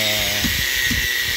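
An angle grinder cuts through steel rebar rings for a tie beam at a small house build, giving a loud, continuous high-pitched whine with slight wavering in pitch throughout.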